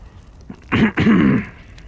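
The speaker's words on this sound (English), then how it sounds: "I am still suffering with a bit of a cough at the moment" A single man's harsh throat clearing, two close, loud bursts with a short break between, heard alone in a quiet room.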